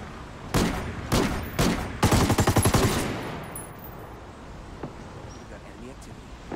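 Gunfire in the game Ghost Recon Wildlands cracks out as several loud, separate shots, then a rapid automatic burst, with a faint voice and a few distant pops trailing off afterward.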